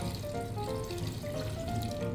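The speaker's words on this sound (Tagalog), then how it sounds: "Lagyan ko lang ng tubig." Water pours softly and steadily into a pressure cooker holding beef, a quiet, continuous trickling stream with no talking.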